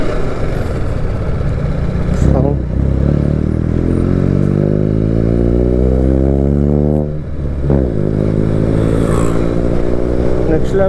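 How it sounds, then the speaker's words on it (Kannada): A motorcycle with a modified exhaust revving loudly nearby, the engine climbing in pitch through repeated surges, dropping back twice, then rising again, alone without talk. "Exhaust modify ಮಾಡ್ಸವನೆ."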